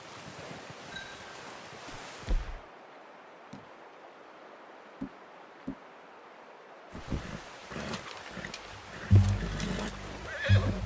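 In Red Dead Redemption 2, a horse neighs and whinnies outdoors during hunting, with wind and rustling leaves around it, quiet stretches, and a few soft thumps and hoof sounds.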